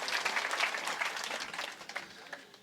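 Audience applause at a Hindi poetry recital (kavi sammelan), a dense burst of many hands clapping that gradually thins and fades over a couple of seconds.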